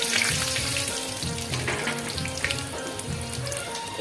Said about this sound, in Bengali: নিয়ে নিয়েছি এখানে গোটা কিছু রসুন, আমি এটা এবার তেলেতে দিয়ে দেবো